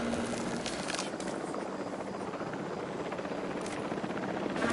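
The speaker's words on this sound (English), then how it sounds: "Helicopter protection deployed." Helicopter rotor thudding steadily up close in Jurassic World Evolution 3, a constant loud whir with brief game announcements layered over it.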